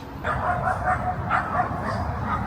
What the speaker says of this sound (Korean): 개가 짖는다